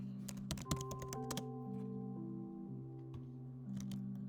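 Computer keyboard typing while working in Photoshop, a quick cluster of close key clicks followed by sparser taps, quiet over a faint steady hum, with no voices.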